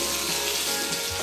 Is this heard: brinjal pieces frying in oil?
yes